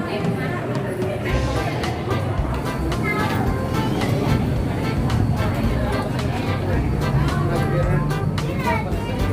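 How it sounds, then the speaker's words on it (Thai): A constant rumbling drone of a Singapore skytrain arriving fills a busy station, with crowd chatter and voices talking over it. "รถไฟ สกายเทนมาแล้วไปกันทุกคน"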